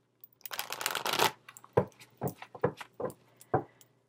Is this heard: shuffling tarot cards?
yes